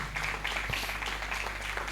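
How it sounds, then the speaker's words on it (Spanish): Congregation at a Spanish-language church service applauding for the Lord, a steady wash of many hands clapping at moderate level, fairly distant, with a low hum underneath. "Den un aplauso al Señor"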